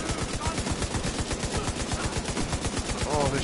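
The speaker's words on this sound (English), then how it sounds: "this shotgun's fucking dirty" Rapid, loud shotgun fire in the video game The Division 2, a dense stream of blasts close up with a faint voice underneath during co-op combat.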